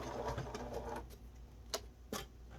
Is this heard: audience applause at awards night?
no